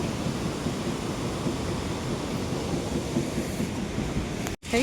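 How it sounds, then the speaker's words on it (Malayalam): Heavy water rushes over a dam in Munnar during strong rain, a loud, continuous low roar that holds steady before cutting out abruptly for a moment near the end. "വെള്ളം ഭയങ്കരമായിട്ട് ചാടുന്നുണ്ട്"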